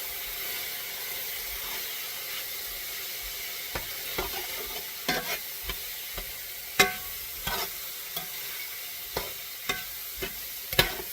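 Floured pork stirred in a hot pan, with a faint steady sizzle and hiss under a series of sharp spatula clicks and scrapes that grow more frequent later on, close and alone.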